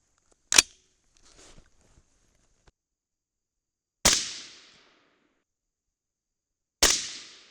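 A suppressed rifle firing Mk262 clone loads with BL-C(2) powder: three sharp, loud cracks spaced a few seconds apart, each with a brief decaying tail, separated by near silence and faint handling noises.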